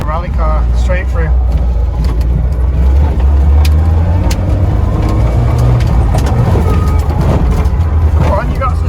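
Citroën AX GT rally car driving, its engine a loud continuous drone with low rumble and changing pitch, road and cabin noise throughout, with people talking over it.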